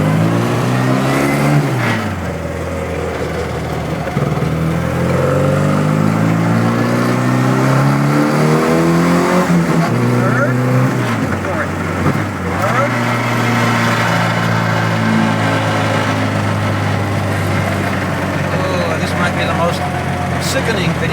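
A car cruises and shifts through close-ratio gears, its loud engine note repeatedly rising and dropping with each gear change, and the body buzzes. Someone talks throughout.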